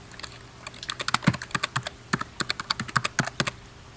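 Rapid typing on a computer keyboard, a steady run of crisp key clicks at close range with uneven rhythm and no talk over it.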